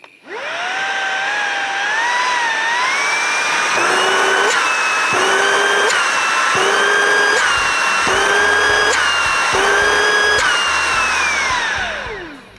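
A cheap, budget cordless vacuum cleaner runs continuously with a loud motor whine, its pitch stepping up and down several times as the power mode is switched between levels.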